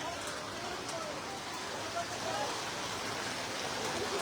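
Heavy hailstorm rain pours down in Dhaka as a steady, dense broadband wash that stays loud and unbroken throughout, with no distinct individual impacts standing out.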